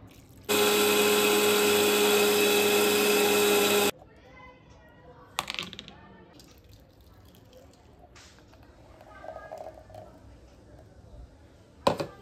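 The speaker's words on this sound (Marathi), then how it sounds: "आता ते मिक्सरला लावून घेते बारीक" A kitchen mixer grinder whirs loudly at high speed for about three seconds while grinding soaked batter for ghavan or dosa, then stops abruptly, followed by quiet clatter, a few faint knocks and a sharp click near the end.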